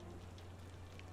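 Steady, soft hiss of rain falling over a London street in a Sherlock Holmes video game, a continuous wash with a low hum beneath and no voices.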